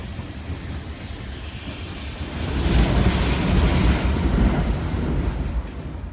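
A train rumbles past close overhead, a loud low roar building after a couple of seconds and holding steady, with a rattling clatter of cars on the tracks.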